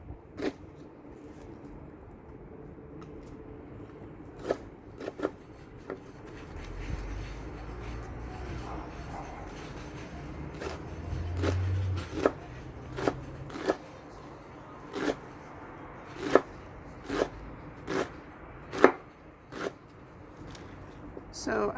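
Leafy muriwo greens are chopped with a knife on a board in a series of sharp, crisp cuts. The cuts speed up into a quicker rhythm toward the end, with quiet talk and kitchen rustling between them.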